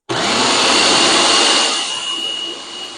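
A blender purees a jerk chicken marinade with onion, roaring loud and close without pause as a steady whir that eases off slightly toward the end, with no voices.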